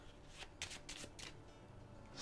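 A deck of playing cards being shuffled by hand, a few quick riffling bursts, close and quiet, with no one speaking.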